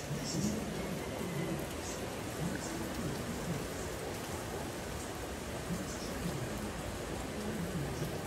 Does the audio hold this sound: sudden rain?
yes